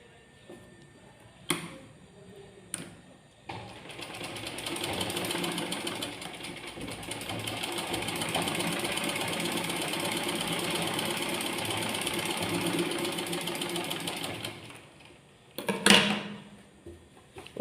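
Sewing machine stitching cross tucks (diamond tucks) in fabric, a steady close whir running unbroken for about ten seconds, framed by a few sharp clicks and a louder knock near the end.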